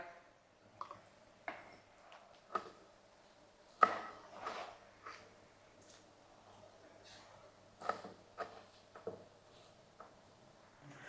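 A knife chops egg khandoli, a Kolhapuri egg snack, into small pieces on a board, giving quiet, irregular taps and thuds spaced about a second apart.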